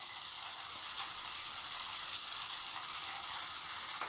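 Butter melting into ghee in a pan bubbles and sizzles softly, a faint, even crackle that stays steady throughout with no one speaking.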